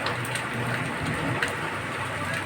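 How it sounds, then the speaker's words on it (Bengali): Light rain falling steadily, a dense, even patter and hiss that continues throughout with a few slightly sharper drops, no voices. "আমি বৃষ্টি হচ্ছে দেখছি, হ্যাঁ অল্প অল্প বৃষ্টি হচ্ছে।"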